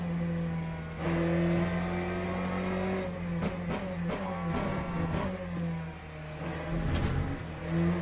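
A hypercar engine in a racing video game drones steadily at lowered volume, its pitch rising and falling as the car shifts and revs, with faint clicks over it and no talk.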